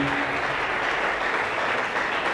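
A church congregation at a community seminar bursts into steady, dense applause, loud and close, filling the hall with continuous clapping.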